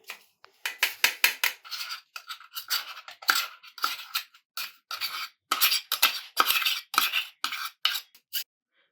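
Ground coconut, blended to a paste-like texture, is sifted through a sieve, giving dense bursts of dry scraping and rubbing strokes in an uneven rhythm, close and fairly quiet, with no talking.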